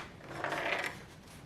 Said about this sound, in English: Depress the locking plunger and pull the locking lever out.